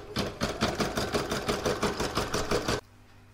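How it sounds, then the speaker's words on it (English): Rapid rhythmic stitching from an embroidery machine working the first round of a large seashell design in the hoop, a loud pulsing chatter for nearly three seconds that stops abruptly. "So now I'm going to pop this into my hoop and I'm going to stitch round one."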